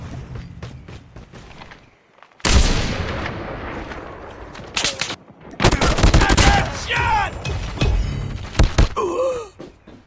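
Call of Duty Mobile tournament gunfire bursts out in loud rapid volleys, mixed with game effects and brief sounds, nearby and dense across most of the clip after a quieter opening.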